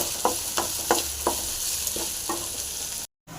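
Onions fry in a pan for a spicy brinjal curry, giving a constant bright sizzle with about six regular stirring scrapes, then a brief cutout of silence near the end.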